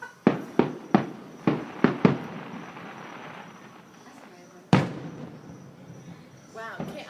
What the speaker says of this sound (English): Let's go light out some fireworks.